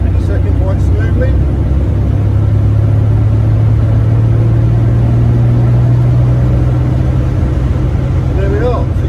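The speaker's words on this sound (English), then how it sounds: "Right, full power, up into second quite smoothly." A 1957 Jaguar XK150 fixed-head coupe engine roars under full throttle, a loud sustained drone rising in pitch as it shifts into second, with road rumble throughout and a voice speaking over it.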